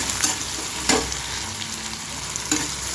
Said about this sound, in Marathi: आपल्याला आता हे तळून घेऊया